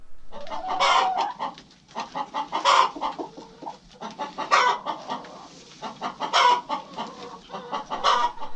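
Chickens cluck and squawk in repeated bursts, several birds close by while being moved from brooder to coop, with brief pauses between the loud calls.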